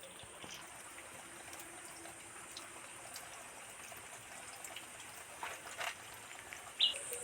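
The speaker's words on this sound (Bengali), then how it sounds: "আগে সবার আগে পরিষ্কার করে দাঁড়াগুলো ধুয়ে নিচ্ছি" Crab claws are rinsed under a faint, steady stream of running water, a soft continuous trickle with a few small splashes near the end.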